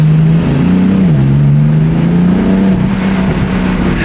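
A stock-exhaust BMW F80 runs with a loud, steady engine drone up close, its pitch wavering slightly as it holds revs, with faint crackly burbles over the exhaust note.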